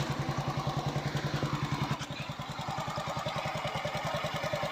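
Turbocharged Honda CZ-i 110 motorcycle fires up at once and settles into a steady, rapid idle putter, close and continuous with no talking.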